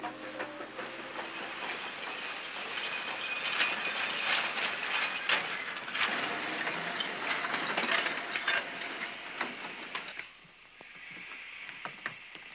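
A train rumbles and clatters steadily with hissing, then the noise drops sharply near the end, leaving faint clicks.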